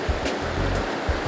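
A river's current rushes over boulders in a trout stream, producing a steady, close, full-bodied wash of flowing water with a few brief splashing surges.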